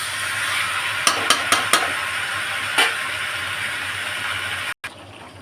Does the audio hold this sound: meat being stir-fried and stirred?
yes